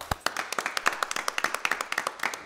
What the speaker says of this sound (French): Non, on applaudit, s'il vous plaît.